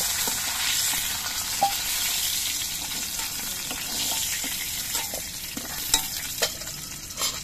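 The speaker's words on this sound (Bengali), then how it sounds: "কড়াইতে যা তেল আছে এই তেলের মধ্যে আমি ঝিঙেগুলো ভেজে নিচ্ছি।" Ridge gourd fries in hot oil in a wok with a dense, bright, steady sizzle and occasional soft stirring taps, heard up close with no voices.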